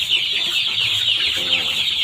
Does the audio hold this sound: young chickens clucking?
yes